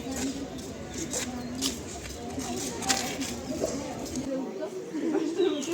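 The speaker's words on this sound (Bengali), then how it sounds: "খাবার খাইয়ে দিচ্ছ পাখিকে?" Pigeons coo softly in a group near a temple in Guwahati while being fed, low repeated calls mixed with people talking nearby.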